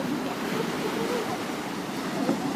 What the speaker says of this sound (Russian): В принципе, волны не такие большие, как я думала.